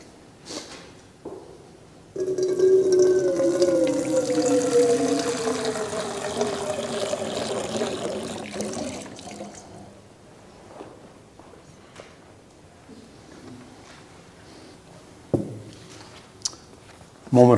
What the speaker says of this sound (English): This water of life which is to be poured represents the flow of life which nurtures us and which sustains us.